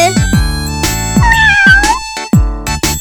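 A cartoon kitten meows several times in short, bright bursts, separated by sharp percussive music hits, loud and close with no talking.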